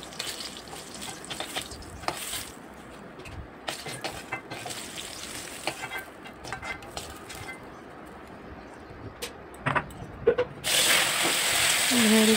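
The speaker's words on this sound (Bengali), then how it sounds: "ভেড়িগুলো ভেজে নিচ্ছি।" Fish (bheri) frying in a pan at home, a steady close sizzle with irregular stirring clatters throughout, swelling into a louder, denser hiss near the end.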